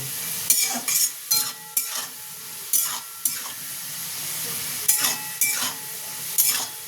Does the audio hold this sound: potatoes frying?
yes